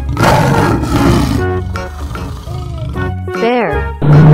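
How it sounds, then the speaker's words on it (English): A tiger roars loudly for several seconds amid a busy mix of other sounds and voices, with a rising and falling growl near the end. "Tiger."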